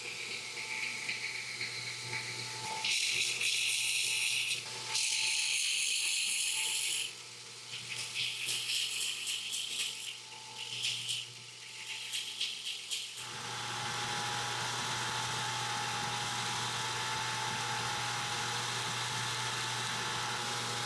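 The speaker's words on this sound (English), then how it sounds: "I'll finish it off with a 220 grit belt" Knife blade being ground on a belt grinder with a 220 grit belt while building a framelock folder, a steady whirring drone with bursts of bright, gritty abrasive contact that come and go, then a continuous even grind to the end.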